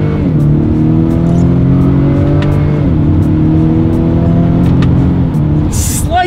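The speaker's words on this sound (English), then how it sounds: "So let's test out the paddle shifters." A 2020 Acura RDX engine revs loudly and steadily up through the gears. Clear pitch drops mark each paddle-shifted upshift, with the engine sustained throughout the run.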